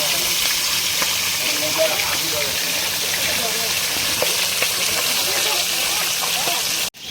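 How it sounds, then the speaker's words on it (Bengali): Hilsa fish heads frying in hot oil, a loud, dense, steady sizzle and crackle that fills the whole stretch before cutting off abruptly at the end. "মাছের মাথাগুলো ভাজছে ইলিশ মাছের মাথা"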